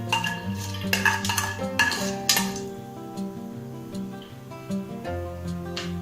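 A metal spoon clinks and scrapes against a cooking pan while cinnamon, cloves and cardamom are stirred for pudina pulao. Several sharp clinks come near the start and fade to lighter scraping, with a faint tonal background underneath.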